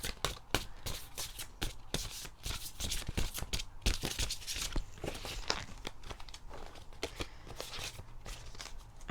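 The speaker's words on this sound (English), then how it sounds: "this deck is so difficult to shuffle." Oversized tarot cards are shuffled continuously at close range, a dense run of riffling, flapping and papery slaps with no pause.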